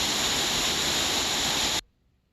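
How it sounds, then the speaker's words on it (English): Vermont's highest waterfall on the Long Trail rushes in drizzly weather: a loud, steady, dense roar that holds constant, then cuts off abruptly near the end, leaving near silence. "Highest waterfall in Vermont."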